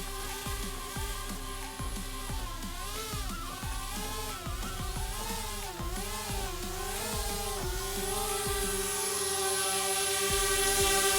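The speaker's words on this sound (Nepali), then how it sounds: "आउँदैछ ड्रोन" A DJI Spark drone whines and buzzes as it approaches, the rotor pitch wavering steadily and the sound growing louder and closer, with no talk.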